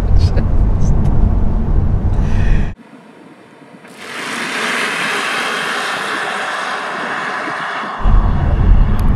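Tesla Model 3 with about 140,000 km under full-throttle acceleration, a steady high-pitched motor whine and rushing road noise building loudly after a brief quiet gap, with heavy low rumble before and after.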